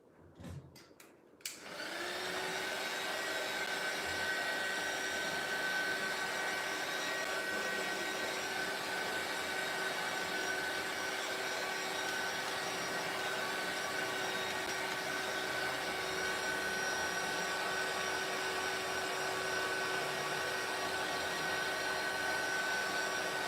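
A handheld dryer blows over a mixed media artist trading card, starting with a click and then a steady, even whir that holds without a break.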